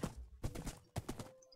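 A horse is ridden in Minecraft, its hooves clip-clopping in a few quick, soft clusters of thuds. The steps are close but fairly quiet, with no talking over them.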